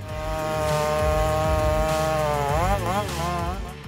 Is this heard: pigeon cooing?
no